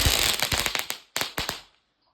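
Bonfire night fireworks going off outdoors, a fast burst of sharp crackling pops that thins into a few louder separate bangs before stopping.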